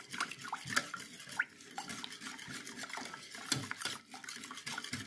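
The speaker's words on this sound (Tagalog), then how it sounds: "Hahaluin natin maigi hanggang sa maging smooth" A spoon stirs a jelly dessert mixture in a bowl, quiet repeated clinks and scrapes against the bowl with soft wet swishing, close and faint with no talking.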